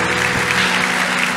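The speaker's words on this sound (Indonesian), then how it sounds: "Tepuk tangan yang paling meriah buat Tuhan." Applause from a church congregation during a worship service sermon, a steady dense wash of clapping filling the whole short stretch with no voices over it.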